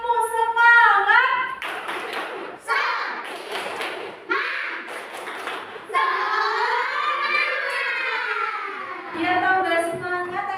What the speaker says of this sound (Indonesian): supaya tambah semangat, kita eksplisit tepuk semangat